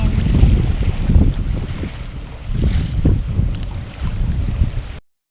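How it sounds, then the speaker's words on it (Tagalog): Gusty wind along a riverbank blustering steadily against the microphone over rushing river water, a loud, rough roar that rises and falls in surges before cutting off abruptly near the end, with no speech. "Medyo mahangin nga lang po dito sa tabing agos."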